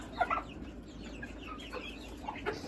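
A hen clucks softly in short, scattered bursts, fairly close, over a quiet background.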